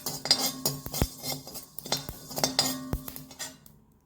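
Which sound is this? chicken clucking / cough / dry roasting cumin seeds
dry roasting cumin seeds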